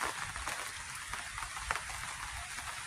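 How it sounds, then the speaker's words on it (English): Rain falls steadily on a camping shelter during a stealth camp outing, a dense hiss with scattered close pattering drops and no voices. "Wait for the rain to pass, and then everything's going to get all soggy wet."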